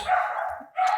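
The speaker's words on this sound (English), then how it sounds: "And then the dogs continue to bark." Dogs bark twice in quick succession, close and fairly loud, with a short gap between the barks.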